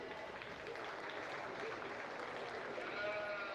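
A crowd at a county fair livestock arena applauds class winners in a steady wash of clapping that runs throughout, with faint animal bleats and background voices mixed in.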